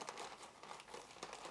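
Faint, close crinkling of plastic packaging as an Amazon parcel is torn open at one corner, with soft irregular rustles and crackles.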